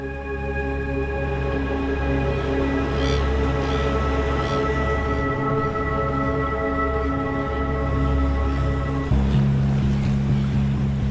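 Ocean surf rolling in along the South African coast south of Cape Town at dawn, a continuous loud wash of waves with a steady low droning hum running underneath.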